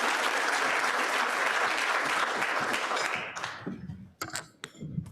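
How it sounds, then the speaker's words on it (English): Applause from an audience at a Rotary club meeting, a steady dense clatter of many hands for about three seconds, then tapering into scattered individual claps and a few sharp isolated claps. "Can I have another round of applause"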